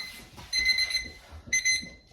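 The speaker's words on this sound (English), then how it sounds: "timer's going off" A kitchen timer beeps in two short bursts of rapid high-pitched electronic chirps, moderately close, with quiet room noise between them in a home kitchen during bread baking.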